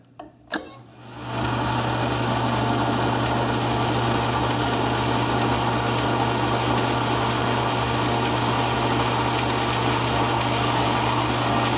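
Machine tool taking a 100-thousandths cut in metal, a brief clatter as it engages, then a steady loud whirring hum with a constant low drone that runs unchanged to the end.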